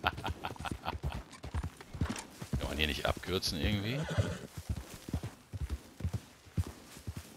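Walking horse hooves in Red Dead Redemption 2 online clop steadily up close while the horse gives a loud whinny midway, with someone talking over the hoofbeats.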